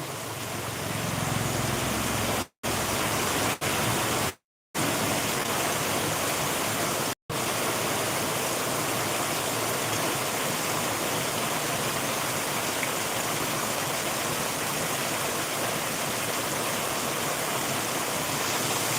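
Heavy rain pours down steadily in Sangrampur as a dense, loud, even hiss that continues with a few brief dropouts and no voices.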